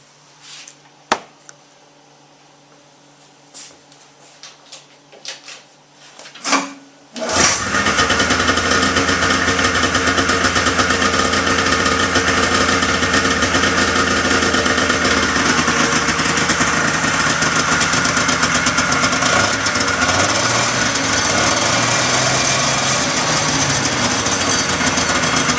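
A restored 1978 John Deere Liquifire tractor engine cranks with scattered clicks and knocks, catches at about seven seconds and settles into a loud, steady, close idle that runs unbroken to the end, with no talking.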